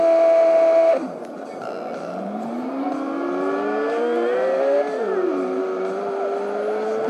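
A police car siren wails in the Turbo Dismount video game, a loud, continuous tone that steps down, then sweeps steadily upward and warbles, with no talking over it.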